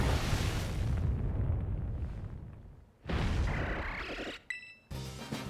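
An earthquake rumbles in the Pokemon Violet video game as a loud, sustained roar that fades, cuts off and then returns with crashing debris. Short electronic game tones sound near the end.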